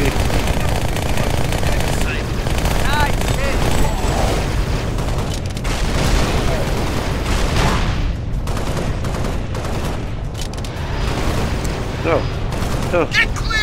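Submachine gun fire from a video game rattles in loud, dense, nearly continuous bursts with heavy booms, while voices talk over the shooting throughout.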